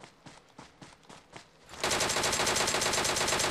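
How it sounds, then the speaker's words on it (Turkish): Sustained automatic gunfire in PUBG Mobile during a drive, with a few separate shots at first and then a dense, loud, continuous burst of rapid fire. "Bu arada biri sıkıyor bana."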